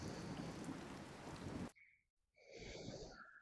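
Simulated rain in a virtual reality environment for educators: a dense, steady rush of rainfall lasting under two seconds that cuts off abruptly, giving way to quieter, scattered sounds.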